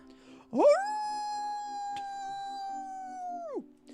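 A human voice imitates a Pokémon's howl during a tabletop role-playing game, one long sustained wolf-like note that rises sharply, holds steady for about three seconds and then drops off, close and clear.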